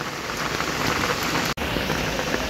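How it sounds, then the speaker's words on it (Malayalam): Heavy rain pouring outside, a loud dense continuous hiss of drops striking surfaces, broken by one brief gap midway, with no voices. "പുറത്ത് ഗംഭീര മഴ."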